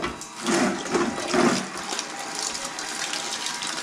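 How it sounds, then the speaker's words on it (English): A battery-powered bait bucket pump switched to high pushes water in a steady, rushing gush that swells twice early on, then settles into a continuous close-up flow with no talking. "And there we have it, folks. Pump water up."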